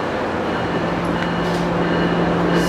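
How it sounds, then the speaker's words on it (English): A Tri-Rail commuter train rumbles past at a station, a steady loud roar with a faint squeal near the end. "I heard the train."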